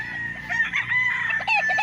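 A rooster crows loudly and close by on a farm lot in Pagsanjan, Laguna, a drawn-out call followed by shorter clucking notes, with no talking over it.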